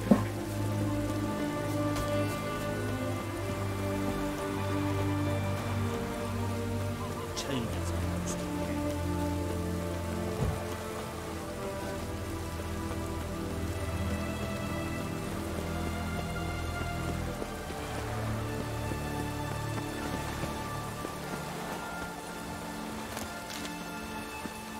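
Steady rainfall in The Witcher 3 video game, a continuous patter running the whole time beneath game music and occasional character voices, with faint hoof clops mixed in.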